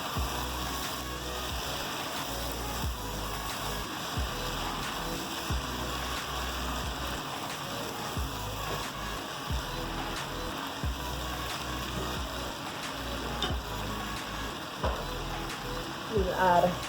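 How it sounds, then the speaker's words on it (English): Peas frying with curry in a pot give a steady, dense sizzle that runs unbroken and fairly close, with small crackles near the end. "And you hear that sizzle. It's all fried up nicely with that curry."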